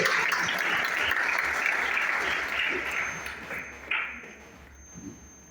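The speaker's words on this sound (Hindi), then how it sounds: "आप लोग यहाँ पे 2 घंटे से ताली बजा रहे हैं" An indoor audience at a hotel event claps loudly and continuously, the applause fading out toward the end with a few scattered claps left.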